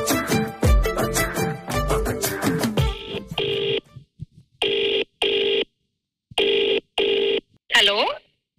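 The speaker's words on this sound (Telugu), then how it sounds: "నేను ఒక ర్యాండమ్ నెంబర్ కి ఫోన్ చేస్తా." A phone dials out to a random number: busy music and voices give way to repeated electronic ringing tones in evenly spaced bursts, with a short burst of voice near the end.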